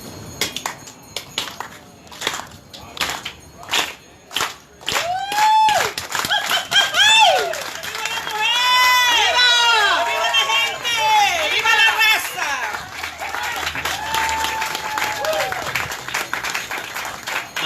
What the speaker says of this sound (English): This is a clap that we used to do in the 60s